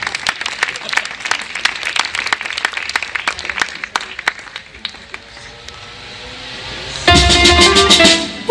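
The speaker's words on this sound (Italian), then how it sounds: "Fategli magari un applauso" A scattered burst of applause from an outdoor evening audience at a summer show by Massimo Guerini in Fasano sul Garda, sharp claps thinning out midway before a louder wash of sound takes over near the end.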